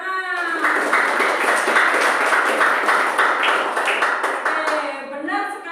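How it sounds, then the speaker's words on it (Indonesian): Students in a classroom clap together in a brief burst of applause, fairly close, mixed with some voices and tapping, and the clapping tapers off near the end. "Bagus sekali, tepuk tangan."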